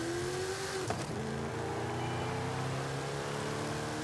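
A drag car in Forza Horizon 5 with an overly long gearbox launches sluggishly, its engine droning steadily at high revs as the pitch climbs only slowly, loud and continuous with no talking.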